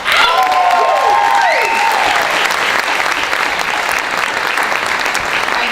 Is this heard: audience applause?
yes